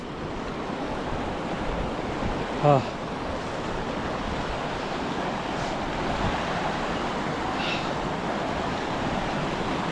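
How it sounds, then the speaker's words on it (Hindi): A mountain stream rushes along the way to Zero Point beyond Lachung Village, a constant loud broadband roar of flowing water mixed with wind buffeting the microphone. "यहाँ पर पानी की धारा, इन धाराओं को पार करते हुए भी हमें जाना है दूसरे तरफ।"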